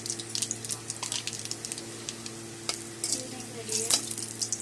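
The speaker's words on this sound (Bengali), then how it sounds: "দিয়ে দিলাম শুকনো লঙ্কা একটা, আর দিয়ে দিলাম কালো জিরা।" A dried red chilli and black cumin seeds frying in oil for jute leaf greens, a crackling sizzle under busy spatula scrapes and clinks, no talking.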